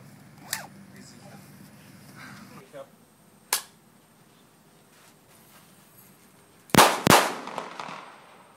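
Sharp pistol shots crack out in a quiet setting: one early, a second a few seconds later, then two loud reports close together near the end, with a low hum underneath.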